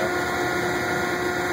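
A Hardinge AHC automatic chucker lathe parts off a workpiece with a continuous close whirring hum and faint tonal whine, steady and uninterrupted, with no talk over it.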